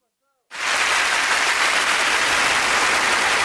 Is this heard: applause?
yes